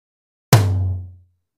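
A single close, resonant hit on the right tom drum of a drum kit: one sharp attack with a low, booming tone that rings out and decays over about a second, alone with no talking.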